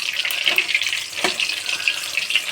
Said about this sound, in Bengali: দেখো ভাজাটা কি দারুণ হচ্ছে,